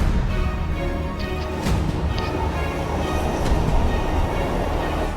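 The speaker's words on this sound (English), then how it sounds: "I'm on the train, yeah." The interior of a moving, expensive passenger train carries a steady loud rumble with rattling, a few brief high squeals from the wheels, and an unbroken droning undertone.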